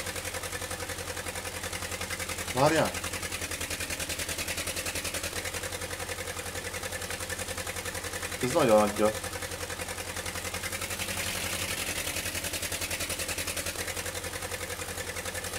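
Farm vehicle engine in Farming Simulator 15 drones at a steady low idle throughout, with two brief revs rising and falling in pitch; someone speaks Hungarian briefly over it.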